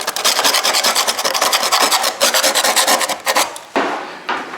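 Plaster on a house wall is sanded by hand in quick, steady back-and-forth strokes. The rasping scrape is loud and close, keeps an even rhythm, and pauses briefly near the end before starting again.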